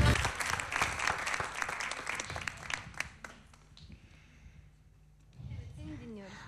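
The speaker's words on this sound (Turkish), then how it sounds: "Hadi alkışlarla davet edelim o zaman Mücahit'i." Audience applause fills the hall at a televised poetry recital, loud and dense for about three seconds before thinning out into scattered claps, followed by a quieter stretch and then a voice beginning to speak.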